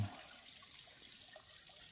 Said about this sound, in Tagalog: konti na lang yung umaagos. Konting-konting tubig na lang.